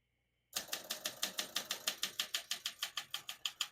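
A 1963 Olympia SM5 manual portable typewriter clacks out a steady run of about eighteen sharp keystrokes in an even rhythm, close and clear, with no voices.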